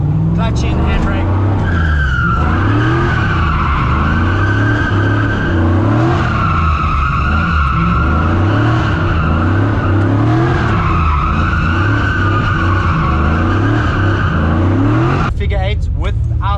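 A car drifts a figure-eight around a cone with the clutch in and handbrake pulled, engine revving and tires squealing continuously up close for most of the run, with someone talking over the noise.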